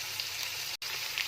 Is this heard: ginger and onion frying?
yes